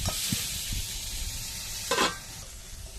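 Teasel gourd (kakrol) frying in oil with salt and turmeric, a close, continuous sizzle broken by a few soft scraping stirs and a brief louder hissing burst.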